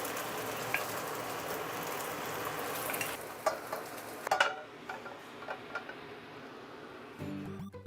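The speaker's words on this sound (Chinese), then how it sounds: "首先来个绝活，煎鸡蛋。" An egg fries in a hot pan with a steady, close sizzling hiss for several seconds, dotted with small ticks and pops, settling slightly toward the end.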